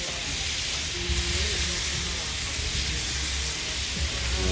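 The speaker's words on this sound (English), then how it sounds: "So we're gonna sear it one side for 3 minutes and then flip it and sear the other side." Tri-tip steak searing on a hot grill, a steady bright sizzle and hiss running continuously and fairly loud, with faint low background sounds underneath.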